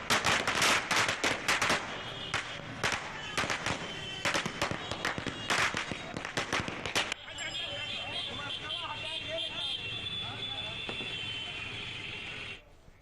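Congress party workers celebrating in Bihar set off firecrackers, a rapid, loud string of sharp cracks and pops for about seven seconds, followed by a steadier noisy crowd din with voices.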